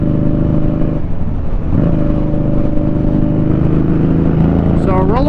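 A 2018 Indian Scout Sixty cruiser motorcycle engine heard while riding, a loud steady droning hum with wind noise and a slight shift in pitch midway, rising toward the end.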